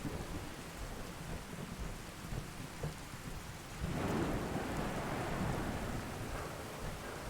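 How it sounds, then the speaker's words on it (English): A thunderstorm from the True Storms mod in Fallout 4 brings dense, steady rain hiss with a low thunder rumble that swells midway and lingers, loud and enveloping, with no voices. "some rather intense storms going on here. I have the True Storms mod in there"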